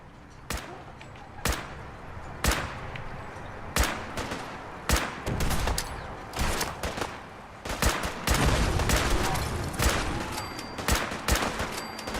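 Gunfire in Fallout 4 on Very Hard difficulty, a long fusillade of sharp, loud shots cracking at irregular intervals, thickening into dense overlapping bursts partway through.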